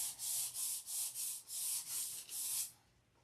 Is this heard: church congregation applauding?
no